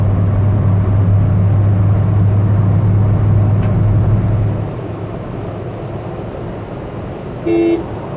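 A Ford Figo Freestyle pushes hard along a two-lane highway at around 140, a loud steady road and engine roar that drops in pitch partway through, with a short horn toot near the end.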